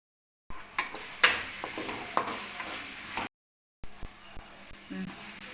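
Green chilies, poppy seeds, cashews and grated coconut sautéed in a pan for broccoli gravy, giving a steady sizzle with sharp spoon scrapes and clicks, then a brief silent gap before more stirring.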